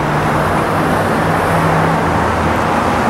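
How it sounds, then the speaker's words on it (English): Cars rush past a gas station in a steady, loud roadway roar with a low engine hum running through it and no gaps. "the whizzing of the cars by, and the motor noise"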